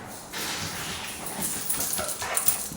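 A dog whimpers and gives soft whiny yips close by outdoors, the thin cries repeating irregularly over a steady background hiss.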